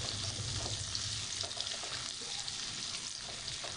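Onion frying in a pan for sotanghon, a steady loud sizzle with faint stirring scrapes running throughout.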